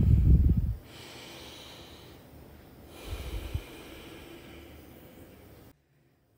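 During a beginner yoga class, a person holding a yogi squat breathes audibly: a strong exhale at the start, then a softer breath midway over quiet room tone, ending in near silence.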